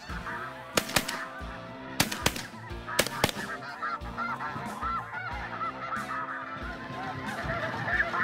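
Geese honk loudly and repeatedly on a duck and goose hunt, overlapping calls filling the air, with several sharp gunshot-like bursts early on.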